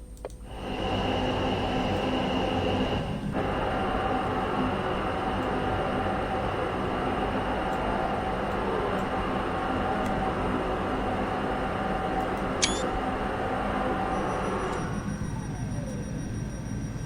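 A Class 444 train in Train Sim 2020 on the Portsmouth Direct Line pulls away under power, a steady whining traction hum and rolling rumble that holds evenly, with a brief electronic chime partway through.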